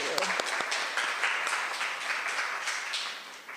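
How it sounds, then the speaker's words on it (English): A round of applause at an annual general meeting fills the room with dense, steady clapping of moderate loudness, with no talk over it. "So round of applause again just for all of the programs and the amazing work they do."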